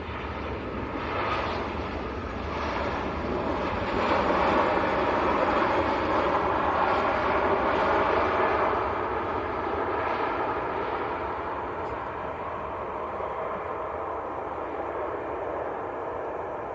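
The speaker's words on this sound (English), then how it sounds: "KLM taxiing out on the other side as well" A KLM airliner taxiing at Manchester Airport, bound for Amsterdam, gives a steady, broad jet-engine roar from a moderate distance that swells slightly in the middle and holds constant throughout, with no talk.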